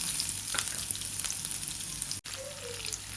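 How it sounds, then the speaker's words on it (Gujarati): Chopped onion hits hot oil already frying with dried red chili, bay leaf, curry leaves and asafoetida, giving a steady close sizzle with a few crackles and one brief drop in sound. "ત્યારબાદ એક સુધારેલી ડુંગળી ઉમેરીશું."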